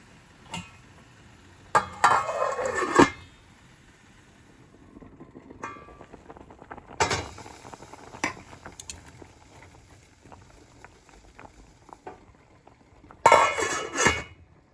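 Boiled potatoes are mashed in a pot, giving a few bursts of scraping and clattering metal against the pot with quieter knocks and pauses between them, close and fairly loud.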